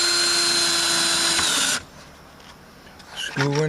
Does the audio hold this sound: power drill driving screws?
yes